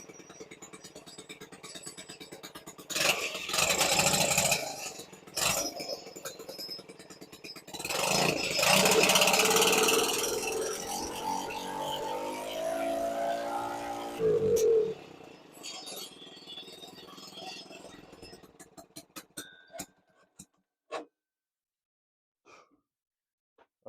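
The small engine of a motorized BMX minibike starts up and runs in uneven bursts, revving and sputtering before settling toward an idle, then cutting out into scattered clicks and taps near the end.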